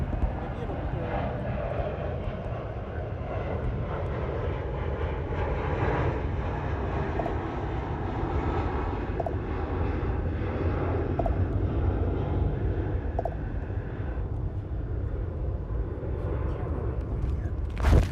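An airliner flying in at DFW International Airport, its engines a steady, loud, unbroken roar that holds for the whole stretch, with a brief rise in level at the very end.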